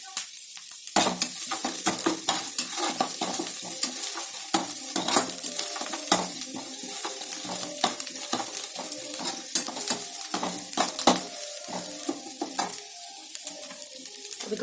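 Batter ingredients get sautéed with a little salt in a pan for wheat idli, with a continuous sizzle broken by frequent sharp scrapes and clinks of a spatula stirring against the metal, close and busy.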